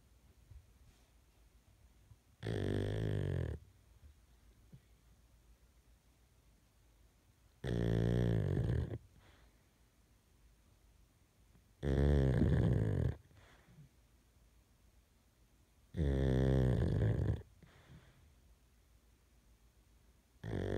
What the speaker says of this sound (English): That is my pug snoring in the middle of the night.